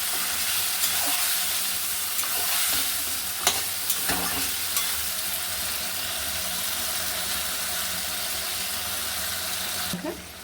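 Mutton curry with yogurt fries in a pan while being stirred, a constant loud hiss and sizzle with occasional scraping knocks, ending in a sharper clatter.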